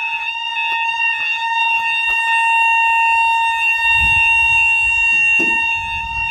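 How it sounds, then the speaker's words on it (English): A loud, steady electronic level crossing alarm at Kellswater North, County Antrim, rings continuously and unchanging with a faulty flat tone, with faint low rumbling beneath it toward the end. "and the alarm is still broken"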